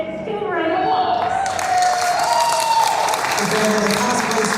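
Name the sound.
audience applause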